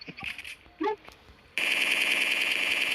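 Rapid automatic gunfire from PUBG Mobile Lite, a loud sustained burst of shots during a fight that begins about halfway in after a few short game sounds and chirps.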